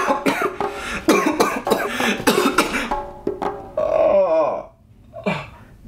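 Several loud, harsh coughs burst out in quick succession from a nearby person, followed by a drawn-out throaty burp-like grunt and a final short cough, with no talking.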